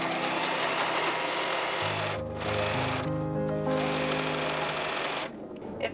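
A sewing machine stitches shirring into fabric, a steady close mechanical whir with rapid needle thumps that briefly slows and changes pitch, running throughout without talk.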